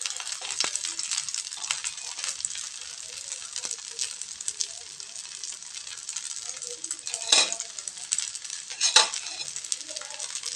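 Rice onion adai cooking on a pan with ghee or oil drizzled around it, a steady soft sizzle with occasional utensil clinks and scrapes throughout.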